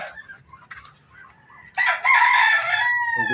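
A rooster crows loudly nearby, preceded by softer clucking and chicken calls, with faint bird sounds in the background.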